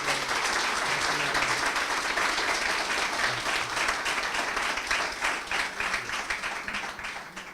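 Audience at a press conference for a singer applauding to welcome him, a steady, dense clapping from a room full of people that holds strong, then thins and fades toward the end.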